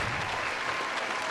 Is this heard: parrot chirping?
no